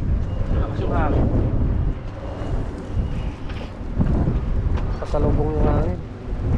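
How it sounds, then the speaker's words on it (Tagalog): Strong wind blows at sea around a boat, buffeting the microphone in loud rumbling gusts, with people talking and calling out over it. "Lakas yung hangin."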